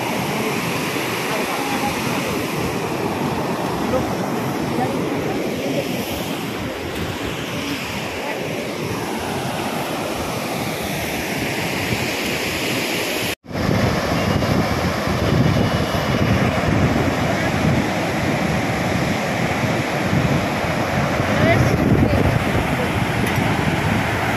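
Water rushing loudly and continuously at Sukatel dam, a broad steady roar with a brief cut partway through, and voices talking faintly under the flow.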